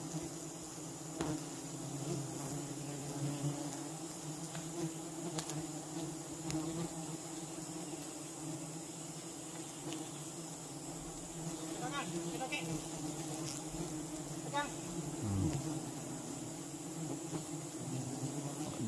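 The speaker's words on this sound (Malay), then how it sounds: "rajin gini lah, lebah rajin" Honey bees swarm around a large hive, a dense, steady buzzing drone that fills the whole stretch at an even, moderate loudness, with a few louder passes of individual bees close by.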